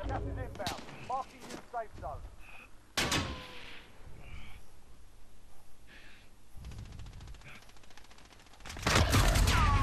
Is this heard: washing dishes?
no